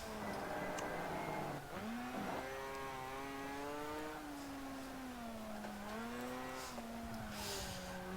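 Tires squeal under the front of a custom-built race car in a racing game, a long wavering screech rising and falling over the steady drone of the engine, loud and continuous.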